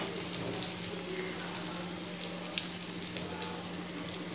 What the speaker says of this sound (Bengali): জলের পরিমাণ একটু বেশি করেই দিব